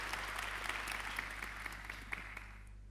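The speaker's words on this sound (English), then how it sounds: "I think that deserves a round of applause." Audience applause at a conference panel session, steady clapping from a sizeable crowd throughout, fairly even in level with a low hum underneath.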